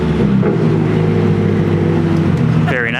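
Nissan S15 fitted with a Rocket Bunny kit revving beside a guardrail, a loud, steady engine drone that holds for a few seconds and then lifts in pitch near the end.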